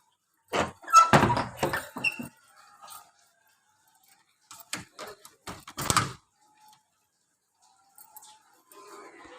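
A house door being shut gives off a cluster of squeaks, scrapes and dull thunks close by, then sporadic softer knocks after a pause.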